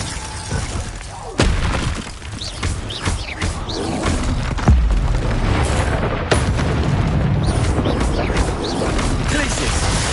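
Bombarda blasting spell exploding during Hogwarts Legacy combat: repeated booming bursts with shattering debris amid continuous battle noise, several sharp impacts standing out over a dense, loud background.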